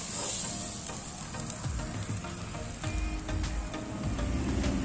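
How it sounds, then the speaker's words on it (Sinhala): Chopped chicken necks frying in a pan with garlic as they are stirred, a steady loud sizzle with scraping stir strokes and no talking. "chicken neck එකතු කරගෙන හොඳට කවලම් කරන්න."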